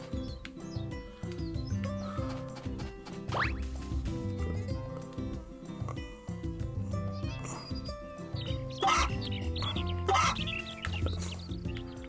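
Chickens cluck around a farm in the video game Story of Seasons: A Wonderful Life, with short scattered clucks over steady game music and other farmyard sounds, moderately loud with no talking.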